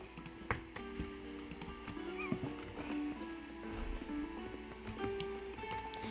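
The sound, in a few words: horses in a wild horse video game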